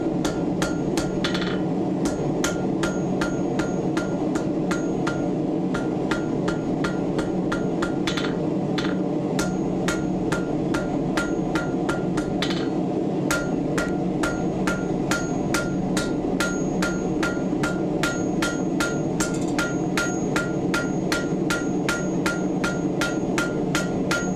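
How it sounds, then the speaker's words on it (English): A hammer strikes hot steel while forging a ring finial, ringing metallic blows in a steady brisk rhythm throughout, with short pauses between runs of strikes over a constant background hum. "I'm actually going to go to a lighter weight hammer."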